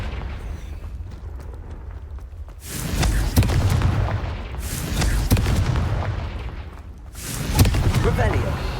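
Confringo explosive spell in the Hogwarts Legacy video game: three heavy roaring blasts, each swelling and rumbling for a second or two, loud and close against a quieter game background.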